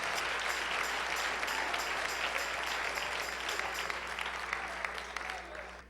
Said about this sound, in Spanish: Dale un aplauso al Rey en esta mañana